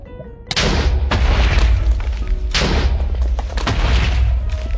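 TNT blocks detonating one after another in Minecraft while mining for ancient debris: a series of loud, deep booming blasts with rumbling tails, following each other closely, with no talk.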